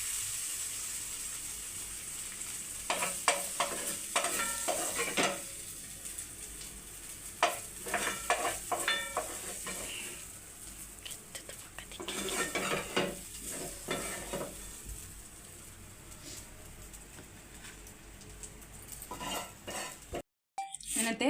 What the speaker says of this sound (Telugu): కొయ్యగూర బజ్జీలు వేస్తున్నాను చెప్పిన కదా ఫ్రెండ్